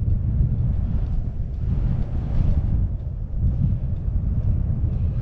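Steady low rumbling wind buffets a microphone outdoors, a constant dense roar with slight gusting swells and no voices.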